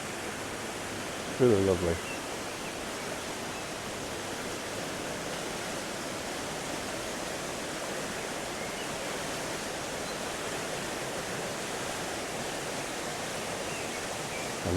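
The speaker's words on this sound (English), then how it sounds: "the way the water's running. But my word, that's fast." Fast-running stream water at a caravan and motorhome club site in Kendal gives a continuous, even rushing hiss throughout. Someone speaks briefly near the start.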